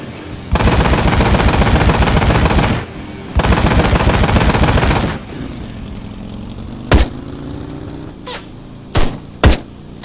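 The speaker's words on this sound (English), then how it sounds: "That's not how you use a machine gun." Sustained machine gun fire in the video game Ride to Hell Retribution, two long loud rattling bursts followed by a few short sharp shots over a low engine rumble.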